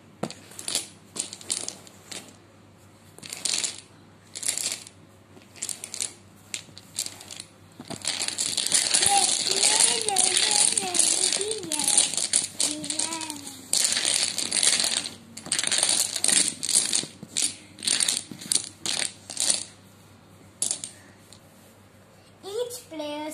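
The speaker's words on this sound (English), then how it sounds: "Now we have to shuffle it." A set of 28 domino tiles is shuffled by hand on a table, with dense, continuous clacking and rattling of tiles against each other, preceded by scattered clicks and overlapped by talking.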